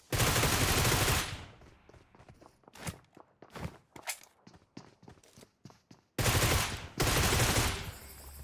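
Gunfire in the mobile battle royale game PUBG Mobile: a long automatic burst opens, then scattered single shots and footsteps, followed by two more loud sustained bursts near the end.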